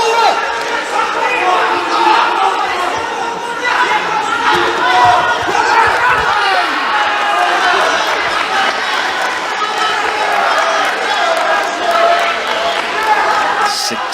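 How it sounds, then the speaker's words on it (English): The Kazakh team cheers from the stands at a judo bronze-medal bout at the Ulaanbaatar Grand Slam, a steady crowd roar of shouts and chatter under a commentator's voice. "Kazakh team really cheering him to this bronze medal"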